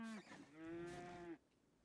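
Cattle in a distant field give a single drawn-out moo, a low, steady bellow lasting about a second, faint against quiet outdoor air.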